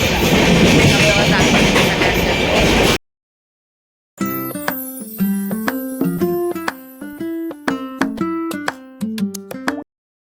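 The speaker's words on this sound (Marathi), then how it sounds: "सो आता आमची ट्रेन फायनली प्लॅटफॉर्मवर निघाली आहे आणि आमचा प्रवास सुरू झालेला आहे" A passenger train on a Konkan trip pulls out and rolls along the rails, a loud, rushing rumble for about three seconds that cuts off abruptly. Melodic background music follows.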